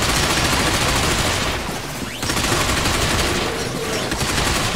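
Dense, loud automatic gunfire fills a firefight in the shooter game Binary Domain, with rapid bursts continuing almost without pause and a short dip midway.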